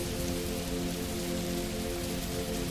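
Gentle, soft rain falls steadily and evenly throughout, a constant close wash of drops on a surface with no voices and no thunder.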